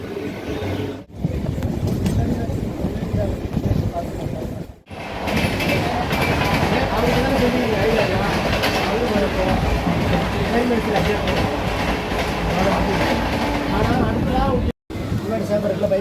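Arakkonam EMU local train running between Chennai and Tiruvallur, a loud continuous rumble of wheels and carriage noise with rhythmic rail clatter, briefly cut by a few short gaps, while a voice talks over it at times.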